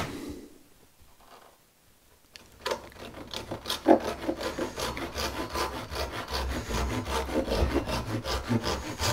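A hand saw starts a cut in wood, slow at first, then settles into steady, close rasping strokes that run on without talk.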